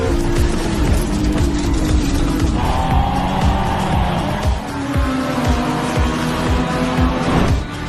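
Racing car engine roars continuously with sharp tire squeals and skids, loud and close, like a dramatized race sound effect, with no talk over it.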